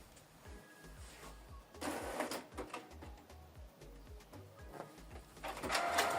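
A Canon Pixma TS5350i printer running off a document, with mechanical whirring and clicking feed noises that swell in two louder passes against a steady background.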